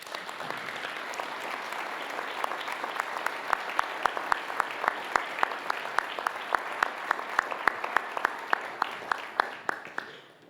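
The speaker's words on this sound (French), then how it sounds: "je crois que vous pouvez les applaudir" Sustained audience applause at an on-stage ceremony, broad crowd clapping settling into a rhythmic, unison beat partway through, moderately loud and even.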